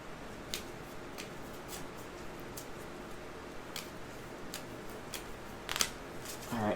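A deck of board game cards for the Alien: The Fate of the Nostromo tabletop game being shuffled by hand, soft riffling and crisp snapping clicks at an irregular pace, close and quiet, with a sharper flurry near the end.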